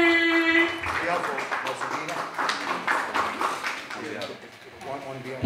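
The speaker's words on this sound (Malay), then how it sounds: "Tepuk tangan." At an annual general meeting of a residents' association, the audience claps in a brief burst of scattered hand claps, moderately close, mixed with overlapping talk and room chatter.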